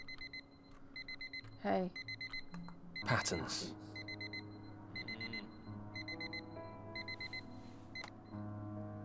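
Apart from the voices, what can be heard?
alarm clock tone from the video game Fragments of Him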